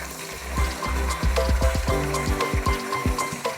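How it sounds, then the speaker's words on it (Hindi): Eggplant pieces shallow frying in hot oil in a pan, with a steady bubbling sizzle and repeated clacks from a spatula or pieces being turned. "ऑयल गर्म हो चुका है। अब मैं फ्राई करूँगी। इसको हम शैलो फ्राई करेंगे।"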